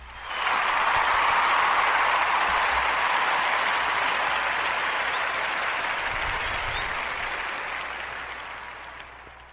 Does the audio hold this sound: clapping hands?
yes